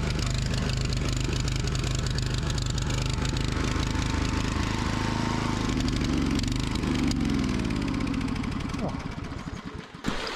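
A DR Field & Brush Mower engine runs loud and steady at close range, a rough continuous drone that climbs slightly in pitch and then falters and sputters toward the end, as if the engine is faltering.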